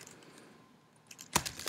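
Computer keyboard typing while building a website, a quiet lull and then a short flurry of close key clicks, heard alone.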